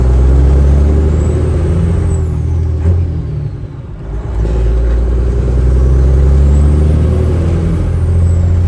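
A Peterbilt 389 truck engine, just repaired after a misfire, revs up and holds a steady, loud, deep rumble, dips briefly near the middle, then climbs back and stays strong to the end.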